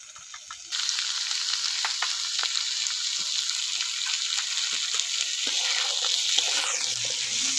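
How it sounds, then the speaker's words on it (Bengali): Spiced potato filling with salt, cumin, turmeric and chilli powder sizzles steadily in a pan, with occasional scrapes and taps of stirring over a constant close frying hiss. "এবার সব কিছু বেশ সুন্দর করে নাড়াচাড়া করে একটা পুর তৈরি করে নেব।"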